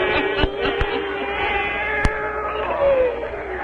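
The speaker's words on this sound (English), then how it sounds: "Satan, her wise black cat." A black cat meows in an old radio drama, a few drawn-out, wavering cries over a steady background hum, with short sharp clicks in between.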